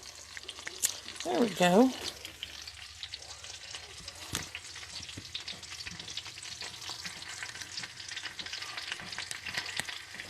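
Apples fry in a skillet with a steady low sizzle throughout, broken by a brief louder burst of voices and a sharp knock early on; a person speaks briefly.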